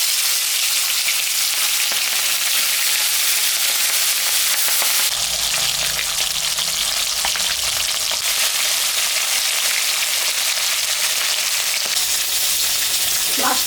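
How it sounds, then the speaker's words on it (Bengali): Rohu fish fries in hot mustard oil in a wok, giving a loud, close, continuous sizzle that flares briefly midway as the pieces are moved. No one speaks. "মাছটা এখন আমি ভাজে নেব।"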